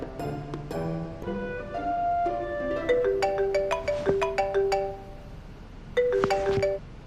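A melodic electronic ringtone plays a repeating chiming tune, clear and close, with a brief pause before the phrase starts again.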